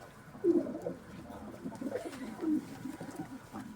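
Pigeons at a bird market coo softly and repeatedly, low and throaty, against a quiet background hum with no talking.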